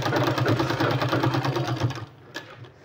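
An electric sewing machine stitches a sleeve design in a fast, even rhythmic whir of needle strokes for about two seconds, then stops, leaving a couple of small handling clicks.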